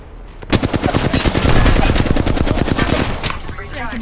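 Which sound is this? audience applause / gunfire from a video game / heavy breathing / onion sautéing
gunfire from a video game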